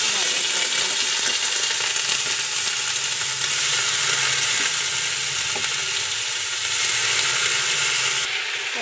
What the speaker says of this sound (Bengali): এখন আমি ভাজছি, এখনও কোনো মশলা বা হলুদ নুন এখনো কিছু দিইনি